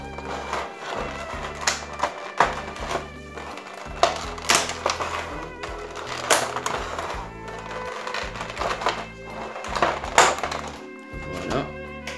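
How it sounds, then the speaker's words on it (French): Boxes of a Saint Seiya Myth Cloth EX Aries Mu figure being opened, with repeated close thumps, cardboard scrapes and plastic rustles at an uneven rhythm, fairly loud, and no talking. "Alors, je vais ouvrir les boîtes."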